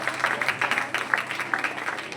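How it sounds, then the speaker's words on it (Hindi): Listeners at a musical Shri Ram Katha gathering clap in scattered, uneven bursts while a voice speaks over the applause. "जोरदार ताली बजाओ"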